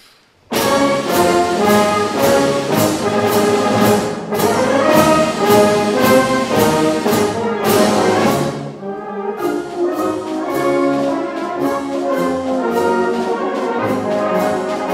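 A concert band plays a piece at a LYRA concert: full, loud ensemble music with strong rhythmic accents, a brief drop near the middle, then continuing at full volume without talk.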